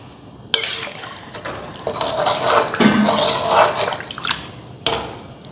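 Water pours into a cooking pot of sambar rice in several splashing bursts and a steady gurgling stream, close and fairly loud, with brief clinks of a vessel against the pot.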